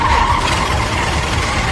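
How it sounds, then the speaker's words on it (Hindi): A car pulling away fast with its tires squealing: a short loud screech fading into engine and road rumble, close by, with no voices. "पिक्लू ने तुरंत गाड़ी बढ़ाई"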